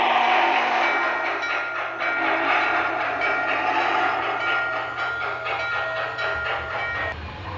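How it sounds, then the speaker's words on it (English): A model Southern Pacific GS4 4449 steam locomotive rumbles along with clattering rail noise and a steady chuffing, loud and close; a whistle-like tone rises near the end. "the Southern Pacific GS4 number 4449 in daylight scheme with 611's bell and whistle"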